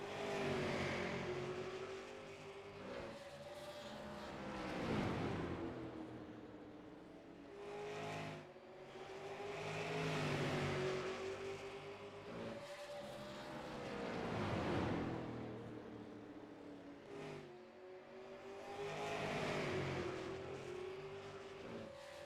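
Super late model stock cars roar around an oval track with twelve laps to go, engines rising and falling in repeated passing waves, loud and continuous with no talk over them.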